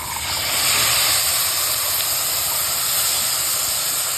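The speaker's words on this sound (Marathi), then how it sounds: "आता हा धुतलेला वटण आहे तो टाकायचा" Washed peas hit a hot pan and sizzle in a loud, steady hiss that stays constant throughout with no talk.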